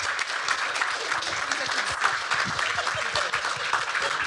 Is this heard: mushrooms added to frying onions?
no